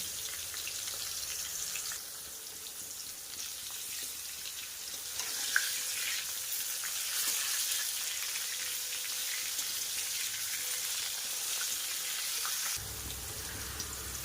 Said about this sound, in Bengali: সামান্য একটু নুন দিয়ে আলুগুলোকে ভাজা করে নেব